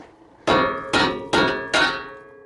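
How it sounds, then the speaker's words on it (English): Four sharp metallic hammer blows on a Nissan 240SX power steering part during an overhaul, each a loud ringing clang that decays quickly, struck at a steady pace about half a second apart. "And then you take your hammer here and you hit this side of it."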